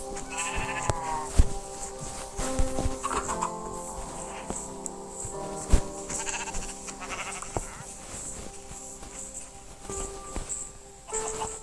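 Sheep bleating repeatedly, wavering calls overlapping with soft footsteps and game-like ambience, no speech.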